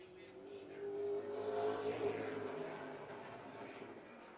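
A PASS super late model race car laps Hickory with a faint, distant engine whine that swells as it passes and then fades away along the back straight.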